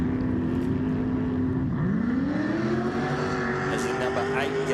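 An off-road race buggy engine at the Finke Desert Race roars and its pitch drops as it shifts, then climbs again as the machine pulls away from the start line, heard through steady commentary.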